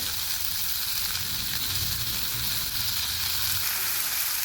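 Masala of salt, cloves, peppercorns, bay leaf, cinnamon, cardamom, tomato and curry leaves fries in a pan for chhole, a loud, steady, close sizzle and crackle that runs without pause.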